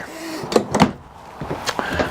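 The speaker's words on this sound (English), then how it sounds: "Hit a button, slide goes in and out." Electric slide-out on a 2018 Jayco Jay Flight SLX travel trailer moving, heard as a few short close mechanical thumps and a motor whir spread over two seconds, with no talking.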